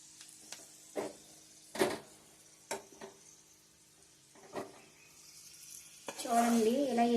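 Hot tempering is poured into eggplant chutney, giving a brief sharp sizzle near the end after scattered quiet clinks and scraping in a kitchen.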